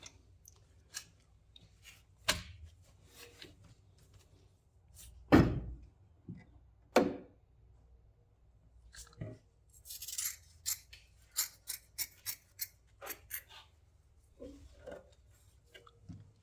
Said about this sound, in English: Must be diamond scissors. They'll cut glass.